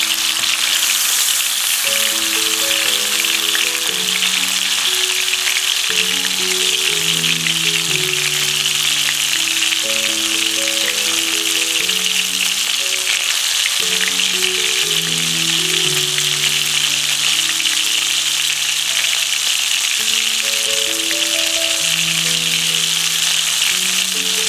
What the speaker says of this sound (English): Both the sides we have to turn and we need to fry the leg pieces.